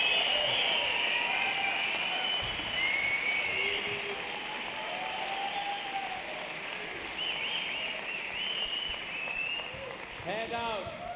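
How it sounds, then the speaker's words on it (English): Squash match crowd at the Grasshopper Cup, waving glow sticks, keeps up a loud roar of applause and cheering with rattling noise running through it, while a commentator talks over the top. "The crowd just erupted."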